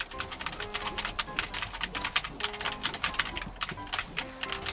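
Rapid, steady typing on a Logitech G913 TKL low-profile mechanical keyboard, with dense, crisp key clicks close by and no voices over them.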